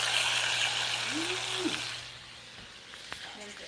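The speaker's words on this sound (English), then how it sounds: "Listen to that sizzle." Steak sizzles in a hot pan, a steady broadband hiss with faint crackle that fades slightly toward the end, with a short whistling tone partway through and a low hum underneath.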